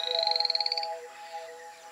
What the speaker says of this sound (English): Poison dart frogs.